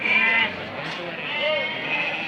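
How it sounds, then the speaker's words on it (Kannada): A female lamb at a Tumkur goat and sheep market gives a loud, wavering bleat close by, with people talking in the background. "ಹೆಣ್ಮೆಕ್ಕೆ ಮರಿ ಹೆಣ್ಣು ಕುರಿ ಮರಿ"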